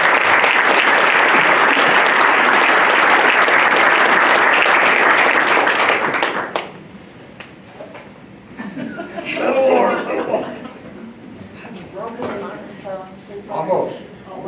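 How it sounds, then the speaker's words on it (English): Audience applause at a board meeting: dense, loud clapping for about six seconds, then fading into scattered chuckles and talking voices in the room. "Give it a round of applause."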